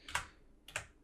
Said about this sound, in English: I'm just moving with my arrow keys